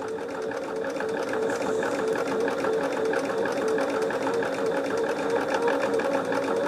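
Sewing machine with a 3070 quarter-inch presser foot stitching quilt fabric, running in a steady, continuous mechanical hum with fast rhythmic needle chatter throughout, close and fairly loud.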